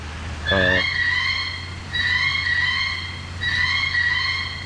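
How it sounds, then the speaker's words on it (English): A bird scarer box plays electronic bird calls in three bursts, harsh rising chirps and whistles, loud and close, with short gaps between each burst. "it's just a box with bird sounds to scare away other birds"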